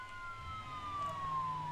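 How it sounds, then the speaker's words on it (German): A police car siren in the driving game BeamNG Drive wails with a slowly falling tone, moderately distant, over a low engine rumble. "Er setzt die Sirene an,"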